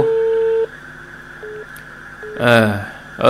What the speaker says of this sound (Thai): แม่ไปกดใส่โทรศัพท์ภาคสายไป